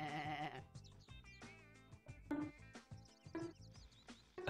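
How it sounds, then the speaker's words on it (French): A sheep bleats in a retro wolf-themed video game, a wavering cry at the start, then short repeated bleats over plucky game music with no talk. "Alors, je chope le mouton,"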